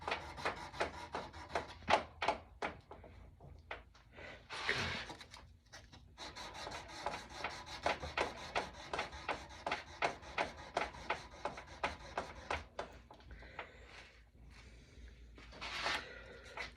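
A gun barrel's crown is wet-sanded with 600-grit paper in quiet, rhythmic rubbing strokes. The soft scrapes repeat closely one after another with a few short pauses.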